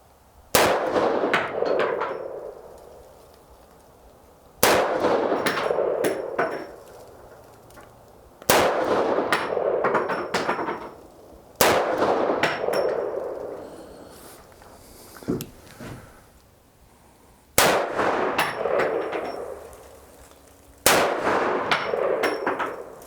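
Desert Eagle .50 AE handgun shots ringing off a steel target, seven sharp blasts each followed by a resonant metallic clang and decaying ring, spaced a few seconds apart outdoors, loud and close with no talk.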